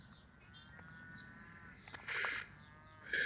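A cow mooing outdoors at a farm around sunrise, a long, drawn-out low complaint rising and falling, fairly distant against quiet morning air.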